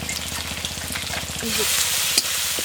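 Onions frying in a pan with salt, turmeric and chili at an outdoor winter picnic: a steady, close sizzle with bubbling crackle and a few stirring scrapes, and faint voices in the background.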